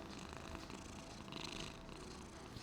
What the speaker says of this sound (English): He purred.